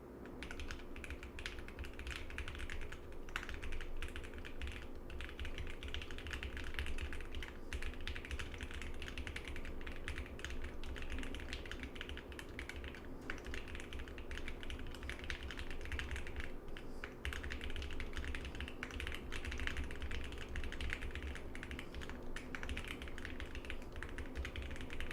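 Steady, rapid keyboard typing during a TypeRacer race, a dense unbroken patter of keystrokes held at an even moderate level for the whole stretch, with no voices over it.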